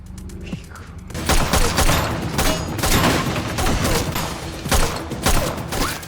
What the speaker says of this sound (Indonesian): Kim dan Hansu terdesak di balik meja akibat rentetan tembakan asasin tersebut